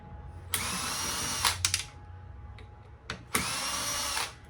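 A power drill unscrewing the motor of an old AC unit, two sustained whirring bursts with brief stuttering trigger pulses between them, close and loud.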